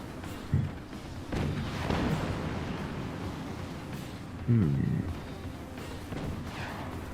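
Cannon fire from an airship battle in the physics-based RTS game Forts during a 3v3 tournament, with booming shots that thud at about half a second and again near four and a half seconds over steady in-game rumble.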